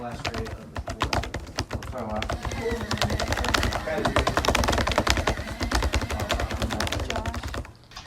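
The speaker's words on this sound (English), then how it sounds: "type very obnoxiously for a few seconds. Just abuse your keyboard" Rapid, hard keystrokes clatter on a computer keyboard in a dense, uneven burst that lasts several seconds, close and loud, typed deliberately hard.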